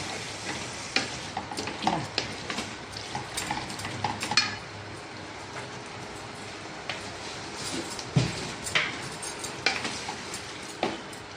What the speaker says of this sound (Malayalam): നമ്മുടെ അരവൊക്കെ നല്ല തിളച്ചിട്ടുണ്ടല്ലോ